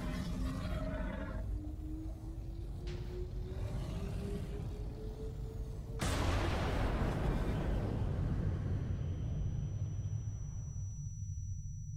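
A bomb blast in a Minecraft Wither Storm mod, a sudden loud explosion bursting out midway over a low droning rumble, then a long roaring decay that slowly fades.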